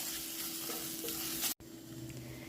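Tomatoes sizzle steadily while they are sautéed in a pan for a sausage roast. A broad, dense frying hiss runs throughout, with a brief cutoff partway through before the sizzle resumes.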